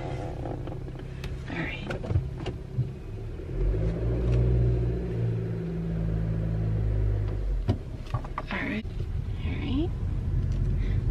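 A car reversing then pulling away, its engine rumbling low and rising briefly as it accelerates, heard from inside the cabin, with someone speaking briefly and some interior clicks and rustles.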